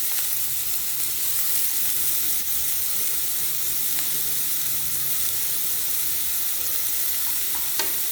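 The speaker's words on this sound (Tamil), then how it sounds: "இதை கொஞ்சம் வதக்கலாம்." Three chopped onions and green chillies sautéing in oil for rava masala idli, a dense hissing sizzle that stays even and close, punctuated by occasional light stirring taps.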